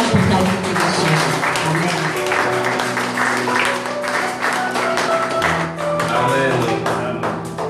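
A church congregation applauds and cheers during a worship service, with dense rhythmic clapping and lively voices throughout, loud and close.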